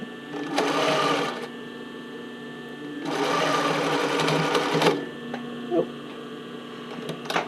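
A domestic sewing machine stitching bra cup fabric runs in two loud, close bursts of steady whirring and needle chatter separated by a pause, then stutters and clunks as it jams on the fabric, with no talking over it.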